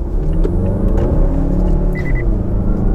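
A turbocharged Mazda CX-9 accelerating hard from 0 to 100 km/h, recorded from inside as a loud, steady, close engine and road rumble with no pauses.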